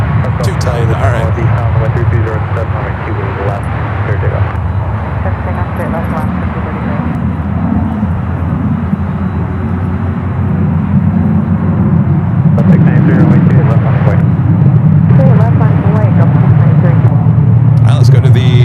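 A special-livery Boeing 787-9 Dreamliner arriving from Newark at San Francisco airport. A deep, steady engine rumble grows louder toward the end, with a person talking over it almost throughout.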